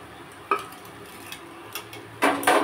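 Eggplant with beaten yogurt stirred in a pan, heard as a few sparse light clinks and scrapes of a spoon against metal, with a louder scraping burst near the end, fairly quiet overall.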